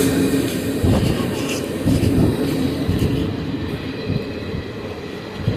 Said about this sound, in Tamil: ட்ரெயின் வந்து பார்த்திங்கன்னா சென்ட்ரல் ட்ராக்கில் வந்துருக்குங்க